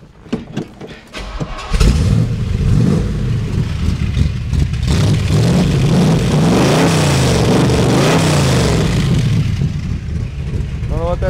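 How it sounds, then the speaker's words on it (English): A 1970 Chevrolet Chevelle with a small-block V8 and automatic transmission cranks briefly, catches and fires, then revs loudly and unevenly up and down before settling, recorded close to the car with no talk over it. "Here, I'm going to start this car up."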